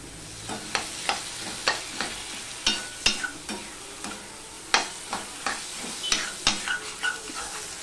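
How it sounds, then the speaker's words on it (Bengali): A spice mix with sugar is sautéed in a pan while preparing bottle gourd, a spoon scraping and tapping the pan in a regular rhythm of close, sharp knocks over a faint, steady sizzle. "চিনিটা মিশিয়ে নিয়ে আমি আরেকটুখানি কষিয়ে নিলাম।"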